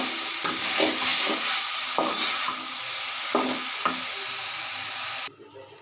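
Mixed five-vegetable bhaji stirred in a hot pan, a steady broadband sizzle broken by several sharp spatula scrapes at uneven intervals, close and fairly loud, cutting off abruptly near the end.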